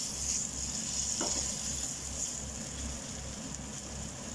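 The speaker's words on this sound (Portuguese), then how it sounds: "Deixamos fritar." Cod pieces frying in a shallow layer of olive oil for Azorean-style salt cod, giving a steady close sizzle with a faint crackle and no voices.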